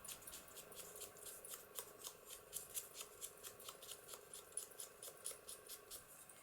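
Scissors cutting out paper tags for a papercraft project, quiet rhythmic snips repeating steadily at close range with soft paper rustle.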